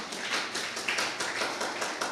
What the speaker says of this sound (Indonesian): Ayo beri tepuk tangan buat Tuhan